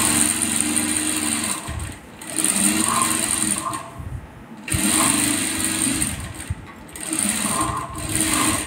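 A sewing machine stitches a blouse in a tailoring class, running loud and steady in long bursts with brief pauses between runs.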